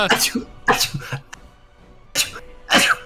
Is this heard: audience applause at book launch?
no